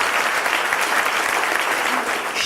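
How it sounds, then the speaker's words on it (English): A crowd at a King's Day celebration in St. Martin applauds a youth drum band with a dense, steady round of clapping that stays loud and even throughout. "let's give him a round of applause"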